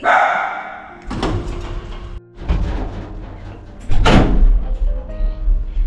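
A dog barks a few times inside or near a house, its barks mixed with thumps and door-like knocks at moderate distance.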